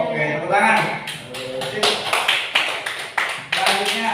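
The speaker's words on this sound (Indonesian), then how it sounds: "tepuk tangan" Students clap in a classroom in a short run of separate sharp claps, uneven and fairly close, while voices talk over them.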